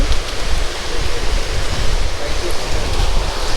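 A waterfall in Araku valley roars as a steady, dense broadband rush with no break and no clear voices over it.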